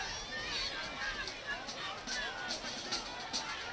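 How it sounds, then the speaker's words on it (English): A crowd fills the stands at a Friday night high school football game between Blount and McGill-Toolen, producing a steady, moderately distant hubbub of chatter and cheering under the voice of an announcer. "What a great crowd, huh? Great atmosphere."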